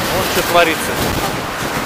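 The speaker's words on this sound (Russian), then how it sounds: "Только сильный ветер и шторм на океане." Loud wind buffets the microphone over a broad rushing roar of storm surf on the ocean at a beach in Galle, Sri Lanka, while someone speaks briefly.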